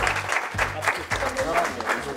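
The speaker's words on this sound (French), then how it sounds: "Les applaudir très fort." A studio audience at a French game show final applauds in steady, dense clapping, fairly close and continuous throughout.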